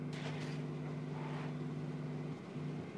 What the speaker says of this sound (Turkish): Bakın araba sürüyoruz.